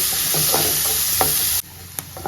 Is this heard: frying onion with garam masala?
yes